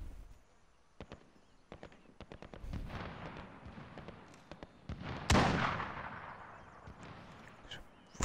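Gunfire in Call of Duty: Modern Warfare Warzone battle royale, with scattered sharp shots and short rapid volleys, then one loud close blast that rings out and fades.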